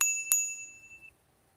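Bell on a Himiway D5 2.0 ST 750W 48V electric bike rung twice in quick succession, bright close pings with the second tone ringing out for about a second before fading to quiet.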